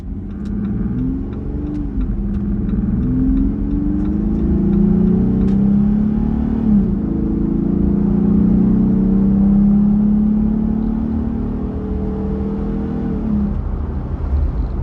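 A 2025 Jeep Gladiator pickup's exhaust rumbles and rises as it accelerates, engine pitch climbing through gears, steady and fairly close throughout.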